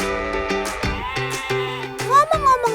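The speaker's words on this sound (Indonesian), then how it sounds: "pasar ternak di sini khusus menjual aneka jenis kambing" Goats bleating at a goat livestock market, several wavering calls overlapping in quick succession, fairly close and loud against a busy background.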